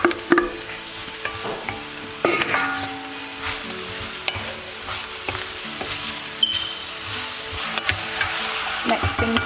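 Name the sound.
meat frying and being stirred with curry powder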